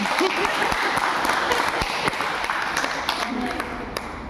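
Audience applause at a Guru Purnima celebration honouring a guru, a dense, continuous clapping from a gathered group in a room, steady and fairly loud throughout with faint voices mixed in.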